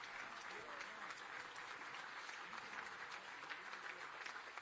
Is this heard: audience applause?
yes